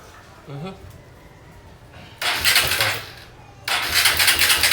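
Honda XR150L motorcycle with a 63.5 mm big bore kit cranks, then its engine catches in two loud bursts of broadband noise, close by, after a brief stretch of talk.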